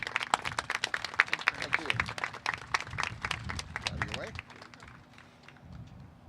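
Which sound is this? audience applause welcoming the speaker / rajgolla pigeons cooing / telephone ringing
audience applause welcoming the speaker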